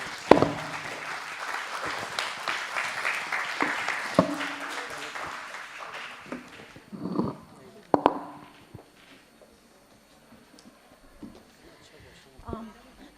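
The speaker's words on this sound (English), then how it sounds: "I think he deserves a great applause for such a brilliant talk." Audience applause after a talk at a sustainable development and lifelong learning event, with claps through the first half that thin out to a few scattered ones, followed by quieter room noise.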